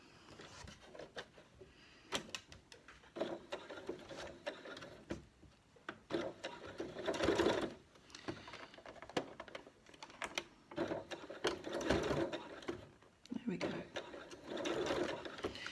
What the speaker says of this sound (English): So it's going to start to sew right on the edge now.